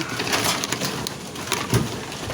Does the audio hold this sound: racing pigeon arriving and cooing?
yes